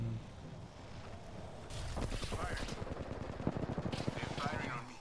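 Rapid bursts of automatic gunfire rattle through a battle-royale video game match, starting mid-clip and continuing in dense repeated volleys close to the listener, with a voice talking over the shooting.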